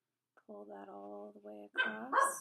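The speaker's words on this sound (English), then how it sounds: "Sorry about the dogs." Dogs bark and whine close by in short harmonic bursts while a person talks.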